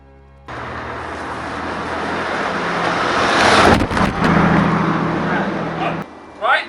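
A Volvo 242 with a 16-valve turbo engine starts and settles into a loud, steady running drone, building slightly and dipping briefly near the end, with people talking over it.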